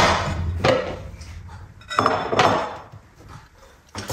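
Pork sisig ingredients go into a bowl with a few close clinks and knocks of dishes and utensils between quieter handling noises.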